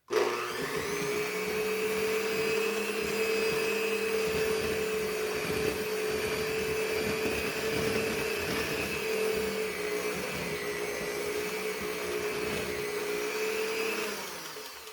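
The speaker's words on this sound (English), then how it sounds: "we're going to mix this on low until it's all incorporated" An electric mixer runs on low speed, beating icing in a bowl with a steady motor hum and a soft churning rattle, starting abruptly, holding for about fourteen seconds, then fading out.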